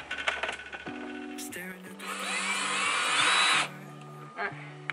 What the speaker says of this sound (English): So now it's time to drill the hole.